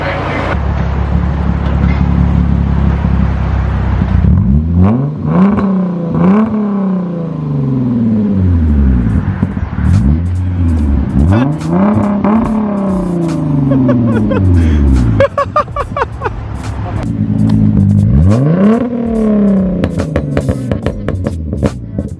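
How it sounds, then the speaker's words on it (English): A car engine revs repeatedly to full throttle in neutral while stationary, loud rumbling exhaust swelling in several long pulls and falling back, with voices underneath. "Can you floor it in neutral?"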